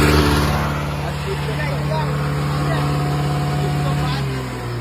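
A car engine idles in a low, steady hum for nearly five seconds, running beneath continuous nearby chatter from a group of people.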